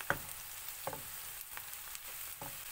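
Chicken liver roasts in a pan with a soft, low sizzle, broken by a few sharp clicks from stirring or spattering.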